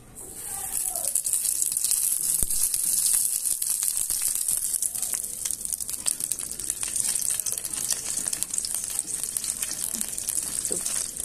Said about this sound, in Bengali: এখন প্যান বসিয়ে দিলাম কিছু গরম মশলা আর তেল